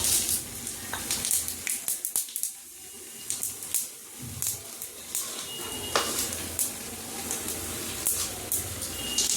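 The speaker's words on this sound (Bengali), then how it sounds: "ওই তেলেই একটু জিরা আর তেজপাতা ফোড়ন দিয়ে দেবো।" Cumin seeds and bay leaf crackle in hot oil for a Bengali tempering, a steady sizzle broken by sharp pops and the scrape of stirring, close and fairly loud throughout.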